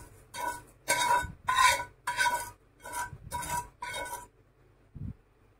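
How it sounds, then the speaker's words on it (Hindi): A spoon stirs fried vermicelli through boiling milk in a pot for sheer khurma, with about seven rhythmic scraping strokes close up and a soft knock at the end. "और फिर से चलाएंगे एक बार।"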